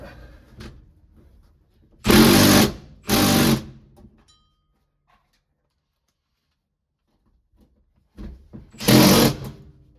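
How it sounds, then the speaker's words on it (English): A power tool drives screws into a Mopar A/B/E-body floor-shift center console, three short loud whirring bursts, two close together and one after a long quiet pause, nearby. "We'll go ahead and get these screws installed."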